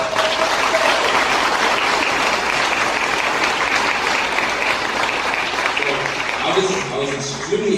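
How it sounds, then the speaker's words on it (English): Sustained applause from a graduation audience honoring graduates at a 2015 graduates address, dense and steady throughout with a few voices rising near the end. "Can we give them a round of applause?"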